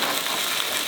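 Vegetables stir-fry in a hot pan for miso butter ramen at a Dosanko ramen shop in Saitama, giving a dense, loud, continuous sizzle with no break across the moment.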